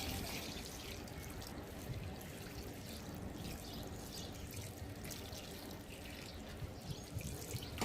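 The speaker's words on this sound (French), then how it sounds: "je vais finir bien sûr par un arrosage plutôt copieux jusqu'à ce que l'eau s'écoule du pot" Water is poured generously over a freshly repotted plant on a balcony until it drains from the pot, a faint, steady trickle and soft patter heard alone.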